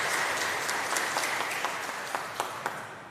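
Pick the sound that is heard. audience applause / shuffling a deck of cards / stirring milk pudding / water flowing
audience applause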